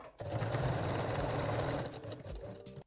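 A sewing machine stitches bralette elastic in one close, steady burst of rapid mechanical whirring that stops abruptly after under three seconds.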